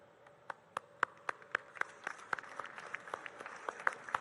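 Sparse, fairly steady claps from an audience at a film festival opening ceremony, individual hand claps spaced about a quarter second apart over a low background murmur.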